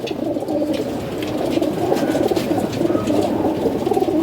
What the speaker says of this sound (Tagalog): Dalawang ibon.